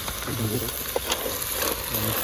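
Masala, salt and ingredients being stirred in a hot pan for Agri-style stuffed crab curry, giving a close, continuous sizzle with scraping strokes and a voice faintly underneath.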